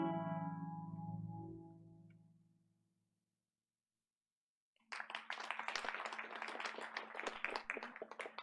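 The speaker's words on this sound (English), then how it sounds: "Just a quick other round of applause, please." Audience at a school board of education meeting applauding after a video screening, a dense burst of handclaps that starts abruptly after a fading musical tone and a short silence, then continues steadily.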